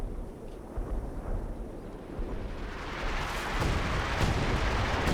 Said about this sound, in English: Oh, the 105mm howitzer barrage fall from the sky.